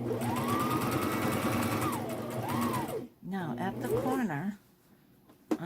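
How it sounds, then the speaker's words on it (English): A domestic sewing machine stitches along a pocket's existing stitching line, a steady fast whirring hum that slows and pauses, then runs again in short bursts before stopping, with a quiet voice in the background. "following the stitching line that's already there on the pocket"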